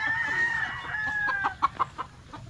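A young gamefowl stag, not yet fully matured, at a gamefarm gives a drawn-out crowing call followed by a few short, sharp clucks, close and clear with no talking.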